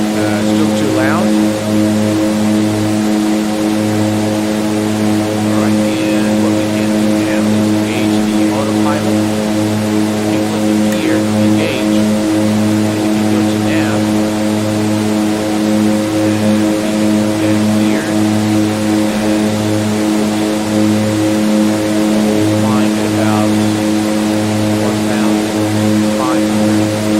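Steady, droning hum of the twin turboprop engines of a DHC-6 Twin Otter climbing in Microsoft Flight Simulator 2020, a constant layered tone with no letup.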